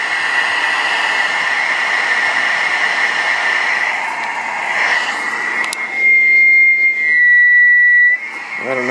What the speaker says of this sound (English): I don't know what the whistling is.